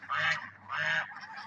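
Geese on a snowy morning giving two loud, close honks about half a second apart, each a nasal bray, with a fainter third call trailing off at the end.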